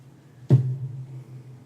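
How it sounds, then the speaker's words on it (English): A cat flops onto the floor indoors, one soft, close thump followed by a brief low rumble. "that was my cat just like flopping onto the ground"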